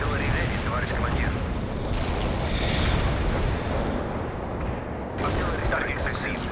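Artillery barrage in the World in Conflict strategy video game: a continuous heavy rumble of shelling and booming impacts fills the scene, with radio-style voices faintly audible amid the noise.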